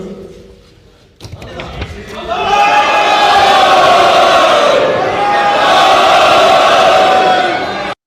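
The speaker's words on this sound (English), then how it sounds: "Now listen when you hear the crowd. You hear some a little bit of dissension." Legislators in the Japanese parliament erupt in a loud, sustained roar of mixed shouting and cheering after the lower house is dissolved, the uproar swelling after a brief lull and holding steady for several seconds.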